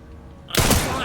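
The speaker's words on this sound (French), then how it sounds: "Ah, j'ai tiré à côté, là." A gunshot fired in the video game Resident Evil 9 erupts as a loud, close burst with a rolling tail after a quiet lead-in with faint voice.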